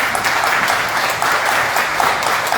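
An audience at a book launch for a booklet about Pedro do Cascudo claps in sustained, fairly loud applause that stays dense and even throughout.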